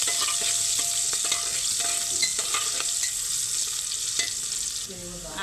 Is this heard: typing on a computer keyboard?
no